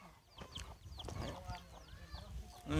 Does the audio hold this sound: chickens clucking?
yes